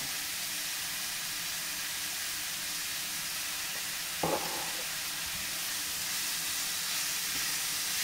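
Leeks and bacon lardons sautéing in a pan, a steady broad sizzling hiss throughout with one brief clack of a utensil midway, no voices.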